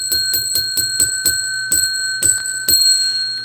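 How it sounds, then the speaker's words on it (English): A bell, likely a small bicycle-type bell, rung about ten times in an uneven rhythm of sharp, bright strikes with ringing tones that carry between hits, loud and close with no talking. "I'm going to ring that bell 10 times."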